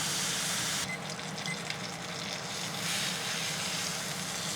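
A steak hits a pan on the highest heat and sizzles, a loud continuous hiss and crackle that stays steady without any talking.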